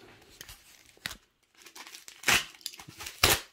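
Tape peels and tears away from BMW 535i car parts in a few sharp, close ripping and crinkling bursts separated by short quiet gaps.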